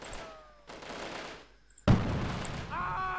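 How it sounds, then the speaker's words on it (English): Gunfire in the video game Delta Force, with bursts of shots cutting in and out in separate sections, loud and echoing. "the shots seem to be coming from somewhere up there in the sky"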